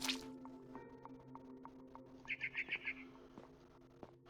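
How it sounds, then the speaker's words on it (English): Birds chirp outside a window in the video game What Remains of Edith Finch, a quick run of bright repeated tweets over a soft steady ambient hum, with a few faint scattered calls around them. "Then I heard chirping outside my window."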